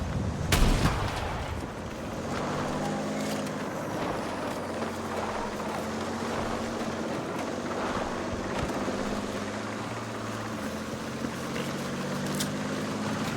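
A vehicle explodes in the Battlefield 6 video game: a sharp blast bursts near the start, then a low droning engine rumble carries on with scattered distant bangs and whooshes.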